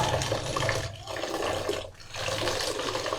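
Rice grains being rinsed by hand in water before boiling, a steady close splashing and swishing with two brief pauses.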